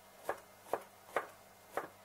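Four evenly spaced knife chops through garlic on a cutting board, crisp close knocks about half a second apart with quiet between them.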